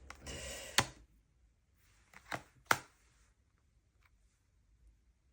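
A neighbour taking down his garden shed right next to an office makes a few faint, sharp knocks and clatters, with a scraping burst at the start. Quiet gaps fall between the hits.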